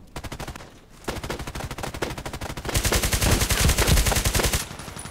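An FN SCAR-H rifle fires in the shooter game Contract Wars, rapid loud automatic bursts of sharp, evenly spaced shots with a short pause before a heavier, denser stretch of fire.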